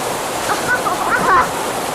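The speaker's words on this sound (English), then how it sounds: "he hit a water line and it's shooting water everywhere" Water gushes and sprays steadily from a broken water line, a continuous close hiss-and-rush with people talking over it.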